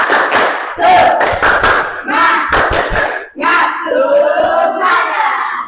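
A school class performs the tepuk semangat, a rhythmic clapping chant, with bursts of group clapping broken by short pauses and voices chanting along loudly nearby.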